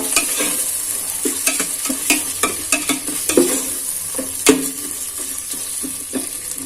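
Ground chilli paste is stirred in a pan for Ambur chicken biryani: loud, close sizzling with a rhythmic run of spoon scrapes and knocks against the pan.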